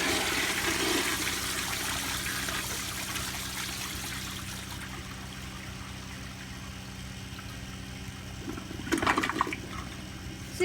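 An American Standard Afwall toilet with a Sloan Royal flushometer flushes in one long, steady rush of water that slowly tapers, then a brief gurgle near the end, close and alone.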